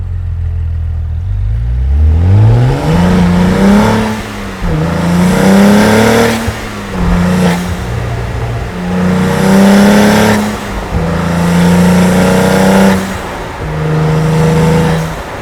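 A Cadillac CT4-V Blackwing, driven during its break-in period, revs repeatedly, its engine and exhaust rising and falling in pitch through several loud, close pulls with no talking.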